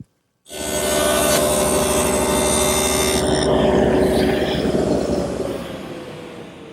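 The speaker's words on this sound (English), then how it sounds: "I'm able to cut the pins into which the dovetails fit" A router on a dovetail jig cuts the pins for a drawer joint, a loud, continuous, harsh whirring cut that starts abruptly and runs steadily throughout, close up, without talk.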